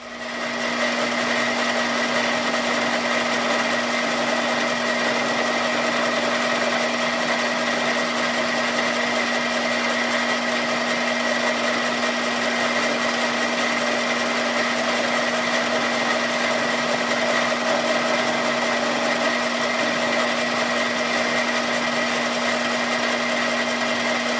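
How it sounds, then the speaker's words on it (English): A lathe runs continuously with a steady, loud mechanical hum and a high whine that hold unchanged throughout. "you turn the lathe on and then sort of slowly wind it in until you see the tip start spinning"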